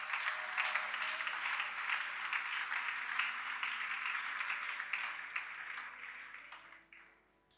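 A church congregation applauds together during a Sunday worship service, a dense sustained wash of clapping that stays steady for several seconds before thinning out and fading at the end.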